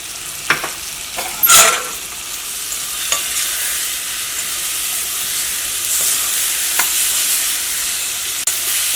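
Curry leaves hit a pan of frying tomato and drumstick for an egg and drumstick curry, setting off a loud burst of crackling and spitting that settles back into a steady close sizzle.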